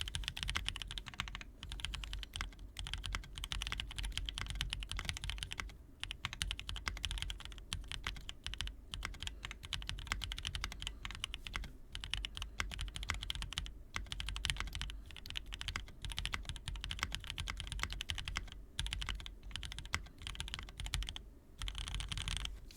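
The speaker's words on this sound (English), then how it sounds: "I'm just going to do a quick typing test." Rapid, continuous typing on a mechanical keyboard, an Aaru65 build, with dense clicky keystrokes at a steady fast pace, close up, with a low background hum and no talking.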